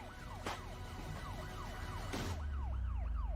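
An ambulance siren wails in a rising and falling sweep at a steady rhythm, fairly loud and continuous, with a low rumble building underneath toward the end and no talk.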